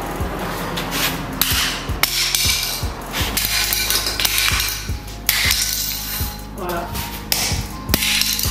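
A cutter tapped in short, sharp knocks along the joint between large 60x120 cm floor tiles, several crisp hits spaced through the clip, close and loud over a steady background hum.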